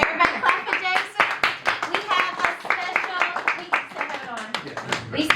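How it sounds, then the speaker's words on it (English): An audience claps for Jason at a birthday celebration and panel discussion, a run of sharp, fairly close hand claps under continuous talk. "everybody clap for Jason"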